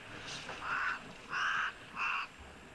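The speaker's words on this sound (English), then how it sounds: "Hear the Cape crows in the background" Three harsh Cape crow caws ring out in quick succession from a distance, outdoors near elephants wallowing in mud.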